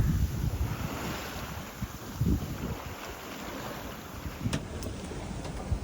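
A small 9m sailboat pushes through wind and waves at sea, with a constant rushing roar of water and heavy gusting wind buffeting the microphone, and no voices.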